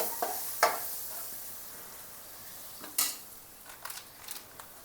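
A spoon stirs a masala spice mixture for Maharashtrian home-style rajma, with coriander powder and garam masala, in a pan sizzling over a low flame. Soft scraping strokes and a few sharp clinks against the metal ring out over a steady, quiet frying hiss.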